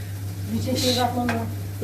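Onions with tomato paste sautéing in a home kitchen pan, soft sizzling under stirring scrapes of a utensil, with a voice speaking over the cooking.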